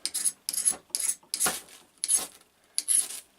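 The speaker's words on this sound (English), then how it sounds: "got the trusty old fire steel, and I'm going to use the Opinel, and I've shaved off and scraped off some of the fat wood" A fire steel is struck with an Opinel knife over scraped fatwood shavings, making six sharp, close, scraping rasps in an even rhythm with brief gaps between strokes.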